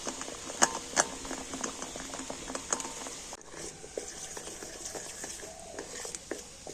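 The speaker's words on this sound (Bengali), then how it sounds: "গরম জলের মধ্যে বাটি রেখে আর এইভাবে চকলেটটা কিন্তু সুন্দরভাবে গলিয়ে নেওয়া যায়" Chocolate melting in a bowl set in hot water, with soft wet stirring, light clinks against the bowl and faint bubbling, close and quiet, in an irregular patter without voices.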